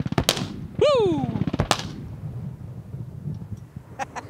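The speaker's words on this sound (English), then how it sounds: "Got a little bit of pyro, a little strafing action there." Airshow pyrotechnic bursts simulating a strafing run by a vintage T-33 Shooting Star jet trainer: a loud volley of sharp blasts, followed by a descending whine and a final big boom that rumbles away under crowd noise.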